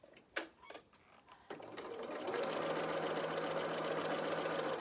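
After a few soft handling knocks, a sewing machine starts stitching the foot pad of a fabric bear and settles into a steady, close, rapid rattling hum that runs continuously to the end.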